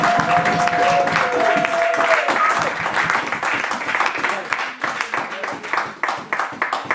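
A church congregation claps and cheers loudly for the Lord, a dense, sustained wash of applause and voices that thins slightly toward the end, with a lead voice calling out over it at first.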